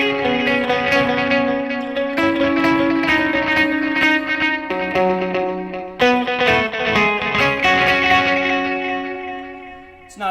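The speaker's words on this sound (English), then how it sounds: "This is 2 delays in parallel," Electric guitar run through two delays in parallel, U2 style, ringing notes repeating in dense overlapping echoes with a steady shimmering wash, loud and continuous with no voice.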